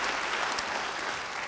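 Church congregation clapping in applause during a sermon, a dense, continuous burst of many hands filling the room for a second and a half.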